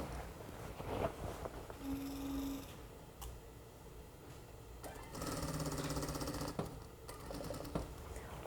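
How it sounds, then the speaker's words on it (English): A sewing machine runs in short, quiet bursts while stitching a dart in a shirt, with a steady mechanical whir and pauses between runs. "we are ready to sew in this other dart, so let's jump back over to the machine and finish it up"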